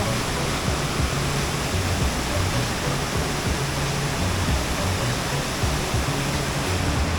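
Banjhakri Falls, a waterfall near Gangtok, pours heavily in a loud, constant broadband roar that fills everything and stays unchanged, with no voices heard over it.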